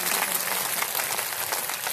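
Steady applause from an audience at a religious discourse by BV Sridhar Maharaj in Noida, a dense, continuous wash of clapping that stays even and fairly close for the whole stretch, with no voices standing out.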